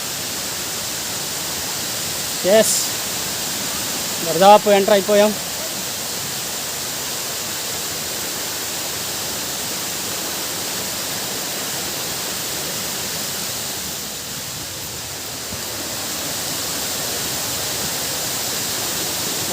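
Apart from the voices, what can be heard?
waterfall water flowing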